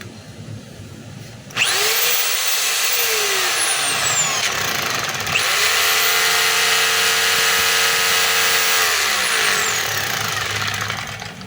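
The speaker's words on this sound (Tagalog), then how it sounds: "Testing natin yung hammer kung malakas pa." A DeWalt D25032 rotary hammer drill runs in two long bursts, a loud, steady high-pitched motor whine with a rapid hammering buzz, pausing briefly between runs and then winding down.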